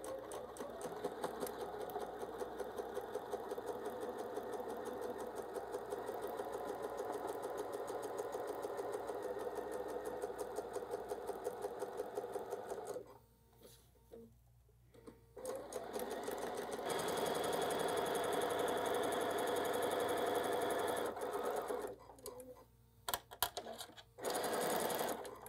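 A sewing machine stitching quilt block fabric hums in a steady, rapid run, stops briefly, then restarts with short bursts near the end, loud and close.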